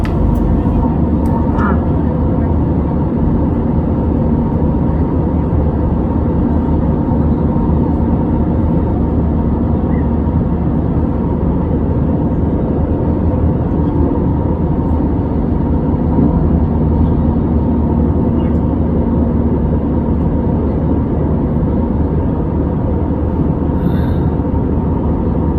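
Steady, loud cabin roar fills an Easyjet Airbus A320 economy cabin during the climb toward cruise from Geneva to Brussels, an unbroken close engine and air rumble with someone talking over it.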